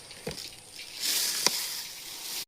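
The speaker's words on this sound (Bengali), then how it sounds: "এবার নারকেলটা দিয়ে দিলাম কড়াই। এবার চিনি দিয়ে দেবো।" Grated coconut fries with sugar in a wok, giving a low, hissing sizzle that swells midway. A couple of soft clicks from stirring are heard, close and quiet, with no talking.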